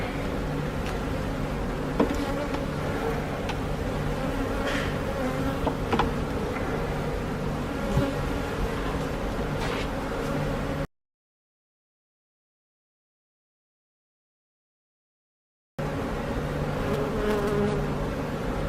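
Agitated honey bees swarm around an open hive, a dense, steady, close buzz with passing individual flights. It cuts out for a few seconds midway, then resumes.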